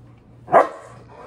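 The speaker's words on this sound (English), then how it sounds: "Don't bark." A dog lets out a single sharp bark mid-clip, close and loud, during a Halloween pumpkin carving, with faint room hum before and after.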